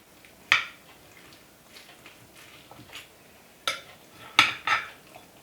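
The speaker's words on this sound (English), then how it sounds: "I'm going to serve myself a small dish" A utensil scrapes and taps against a small dish as spaghetti squash gratin is served, giving a few sharp clinks and clatters at close range with quiet gaps between them.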